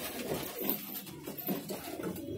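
Pigeons coo in soft, low, repeated throaty calls close by, several overlapping phrases over a short stretch.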